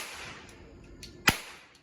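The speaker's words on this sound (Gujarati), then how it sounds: "ફટાકડા ફોડવાનું ચાલુ કરી દીધું છે" A single sharp crack of a Diwali firecracker bursting at a distance, cutting through a quiet background of low hiss.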